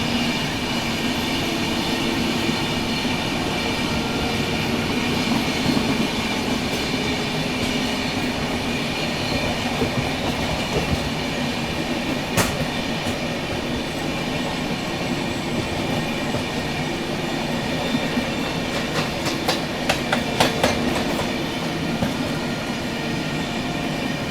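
The Mumbai Rajdhani Express passenger train rumbles steadily along the rails with a constant loud roar, occasional sharp metallic squeals and clicks breaking through.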